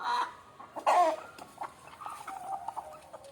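Chickens cluck and call in short, irregular bursts, some louder and nearer than others, over a quiet background.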